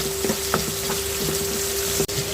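Shrimp frying with onions in a pan for a taro-stolon shrimp curry, a steady close sizzle with a few crackles and stirring scrapes, a sharp clink near the end.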